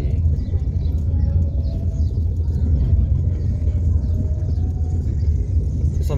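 Loaded cars and trucks move through a busy Ceasa wholesale market on a Friday, giving a steady, dense low rumble of traffic close by with faint birds and scattered background voices.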